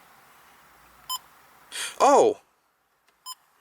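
Two short electronic beeps from a car stereo head unit sound a couple of seconds apart, with a surprised exclamation from a person between them.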